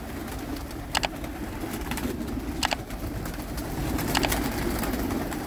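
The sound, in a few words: pigeons cooing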